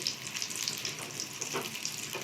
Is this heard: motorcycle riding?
no